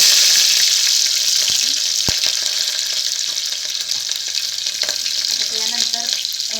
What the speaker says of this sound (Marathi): आपण आता त्यामध्ये हे कापलेल्या 3 कळ्या येत्या लसणाच्या ती टाकून चांगलं एकदम तळतळीत तळल्या पाहिजे